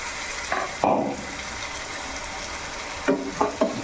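Onions fry in a pan while being stirred for a Telangana-style tomato curry with dried fish: a steady soft sizzle broken by a few brief scraping, clattering stirs.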